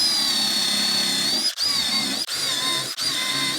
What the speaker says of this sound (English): Now we pre-drill.